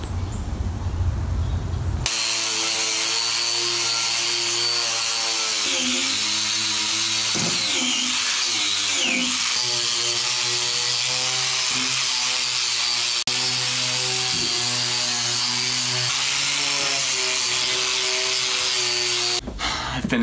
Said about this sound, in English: Before I scrape all the rust off.